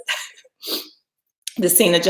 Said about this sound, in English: And now I'm going to sneeze.